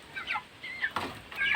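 Chickens cluck and chatter softly nearby, a few short clucks in quick succession over quiet background noise.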